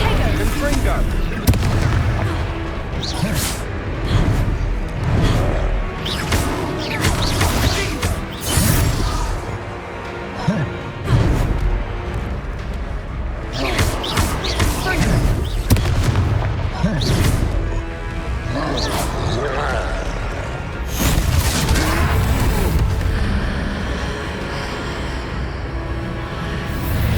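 Blasting-spell explosions and heavy impacts in Hogwarts Legacy during a fight with a troll, repeated loud booms and crashes spread over a long stretch, mixed with shouted voices and battle noise.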